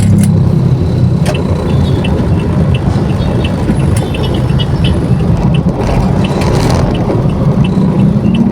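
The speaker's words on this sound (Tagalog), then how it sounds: "Traffic pa naman." Continuous road traffic, dense and close, with a steady rumble of car and truck engines and occasional faint clicks and hisses, heard from inside a moving vehicle.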